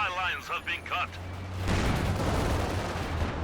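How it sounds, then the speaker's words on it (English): Tank gunfire in Company of Heroes 2 as a Panzer IV and an S-35 trade shots, a dense rumbling barrage of booms that swells after someone speaks and keeps going. "Panzer IV and S-35 trading blows there."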